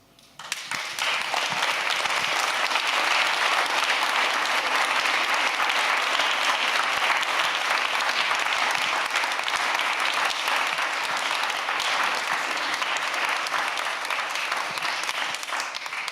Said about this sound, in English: So that was you applauding for yourself.